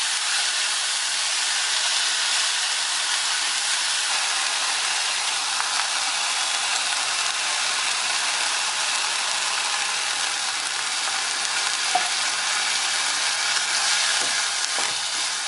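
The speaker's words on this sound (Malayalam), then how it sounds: "നമുക്കിതിലേക്ക് കുറച്ച് വെള്ളവും ആവശ്യത്തിന് ഉപ്പും ചേർത്തൊന്ന് വേവിച്ചെടുക്കാം." Plantain peel and green gram stir fry cooking in a pan with added water and salt, a constant close bubbling sizzle with a few faint scrapes and clicks, no talking.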